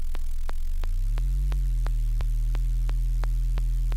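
A distorted synth bass in a drum and bass drop, pitched an octave too low so it buzzes and rattles, droning continuously under a regular beat of sharp clicking hits, loud and alone.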